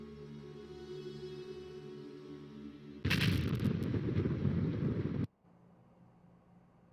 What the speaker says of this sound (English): That's the most powerful bomb ever created.